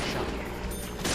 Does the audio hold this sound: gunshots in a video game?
yes